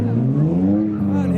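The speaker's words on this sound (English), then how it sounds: "here's some skidding BMWs for your viewing pleasure" BMW cars drifting at a UK track day, engines revving loud and close with a rising, wavering growl over a short burst.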